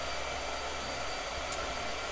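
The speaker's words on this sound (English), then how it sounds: "Blow dryer." A blow dryer runs steadily at close range to dry paint, a constant whooshing hum with no talk.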